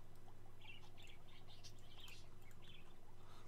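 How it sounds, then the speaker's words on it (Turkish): Birds in the pet shop of the video game Exotica Petshop Simulator chirp in quick, bright tweets that overlap and repeat over a low steady hum, quiet and fairly close. "Çok kuşlar çok ötüyor."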